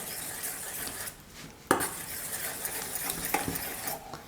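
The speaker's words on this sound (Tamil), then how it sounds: "இப்போ நம்ம வதக்கி வச்சுருக்கிற கேரட்டு தக்காளியோட முட்டையை உடச்சி ஊற்றிக்கோங்க. முட்டையெல்லாம் சேர்த்ததுக்கப்புறம் நல்லா கலந்து விடுங்க." A spoon stirs raw eggs into sautéed carrot and tomato in a pan for an Indian egg dish, giving close, continuous scraping and clinking, with one sharp knock near the middle and a few lighter taps later.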